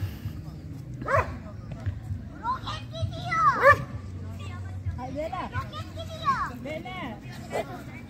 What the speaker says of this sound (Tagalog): tingnan mo yung mga aso, pastang laki-laki.